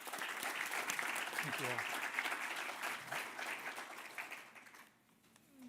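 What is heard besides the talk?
audience applause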